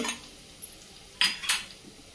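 Asafoetida and curry leaves drop into a pan for tempering, bringing a couple of sharp metallic clinks of a spoon against the pan over a faint background, close and brief.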